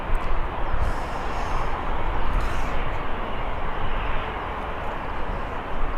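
An EasyJet airliner at Birmingham airport gives a broad, steady roar of jet engine noise, fairly loud and continuous, heard from outdoors.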